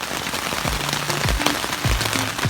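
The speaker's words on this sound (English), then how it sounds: "It's still raining a little bit." Steady rain patters on a surface, a dense hiss of droplets with occasional heavier drips, close and continuous.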